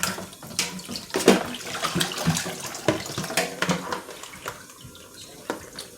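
Tap water runs steadily into a kitchen sink while pork neck bones are rinsed and cleaned by hand, with intermittent splashing and clattering as the bones are handled, fairly close and without talk.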